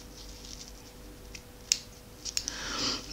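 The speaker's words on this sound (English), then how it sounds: "Now you need some scissors and you're just going to cut" Quiet scissors snip a few times with faint crisp clicks, followed by a soft rustling of paper or material being cut.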